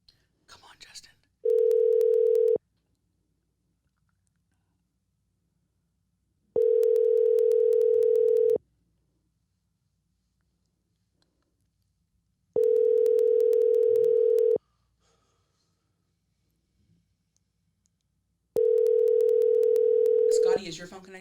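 A phone call rings out with four evenly spaced ringback tones, each about a second long, separated by silent gaps, with faint whispering and voices at the edges.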